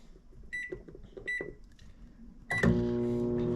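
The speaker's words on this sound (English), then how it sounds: "We're gonna have to pop this in the microwave" A microwave oven beeps twice as buttons are pressed, gives a louder start tone, then begins running with a steady, loud electrical hum, heating soft plastic for fishing lures.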